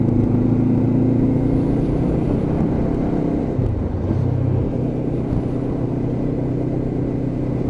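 A Lexmoto LXR 380cc motorcycle engine heard while riding, a loud, steady droning rumble with one brief dip in pitch around the middle, close and continuous with wind noise and no talking.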